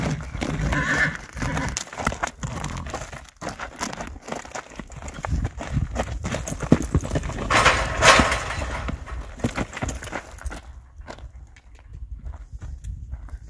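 A rescued horse during riding training in a round pen, with a rough, loud whinny, a scuffle of hooves and shifting dirt, and faint voices nearby.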